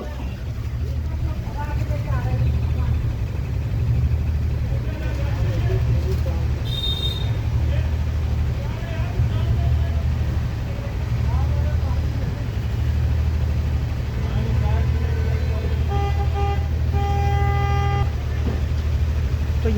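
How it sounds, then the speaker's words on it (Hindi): Traffic jam in narrow rain-soaked lanes of Gurugram, with car engines rumbling steadily and several short horn toots, the clearest near the end, while voices talk throughout. "वो ठीक सामने जो है एक गाड़ी वाला आ गया है, देखते हैं क्या हो रहा है।"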